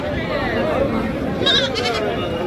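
A few goat bleats sound over steady background chatter and crowd murmur, fairly close by.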